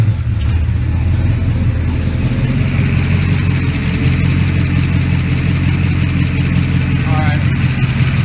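A car engine fitted with a newly installed Holley 780 cfm four-barrel carburetor runs steadily at idle, a loud, close, continuous rumble with no clear revving.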